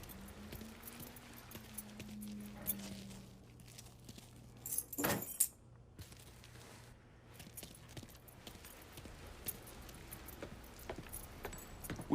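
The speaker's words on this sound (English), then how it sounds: "Lincoln, pick up the keys" Keys picked up in the video game Mafia III, a brief metallic jangle near the middle of the clip over a steady low game-ambience hum, with faint clopping and movement sounds.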